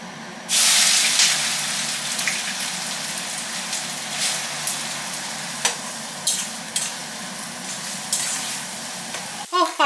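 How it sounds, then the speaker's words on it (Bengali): Chopped onions dropped into hot oil burst into a loud hiss, then settle into a steady close sizzle with intermittent spatula clinks and scrapes. "আমি পেঁয়াজটা ভাজতে বসিয়ে দিই পেঁয়াজ তো কাটা হয়েই গেছে তেলটা গরম হচ্ছে"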